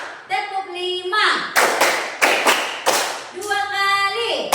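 Children and a teacher in an Indonesian classroom break into rhythmic group clapping: a handful of sharp, loud claps land in quick succession between stretches of chanted counting voices.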